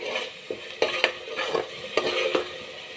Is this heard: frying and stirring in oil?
yes